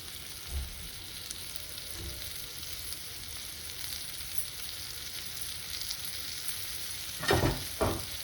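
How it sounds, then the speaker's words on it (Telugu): Ridge gourd curry with spice powder cooks in a pan over a low flame, giving a steady soft sizzle throughout, with a couple of louder stirring scrapes near the end. "అడుక్కి పైకి కలుపుకోవాలి. నెమ్మదిగా సిమ్లో మగ్గాలండి, హైలో పెట్టకూడదు."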